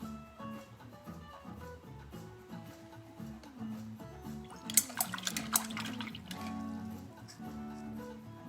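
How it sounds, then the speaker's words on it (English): A paintbrush is swished and rinsed in a water cup, with a brief splashing burst in the middle over soft background music, fairly quiet and close. "brush was getting a little full, so I rinsed out"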